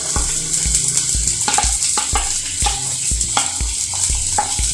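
Onion fries in a pan for a Kerala fish curry, with a loud close sizzle and repeated spatula strikes and scrapes against the metal, an irregular clattering stirring rhythm, no speech.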